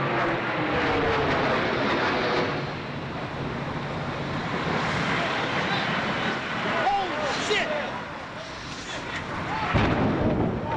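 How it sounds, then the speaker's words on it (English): A loud, low airplane roars overhead in Manhattan, a broad sustained engine rush filling the scene, rising and falling slightly over several seconds amid street noise. "we heard a plane come over, and in Manhattan, you don't hear planes too often"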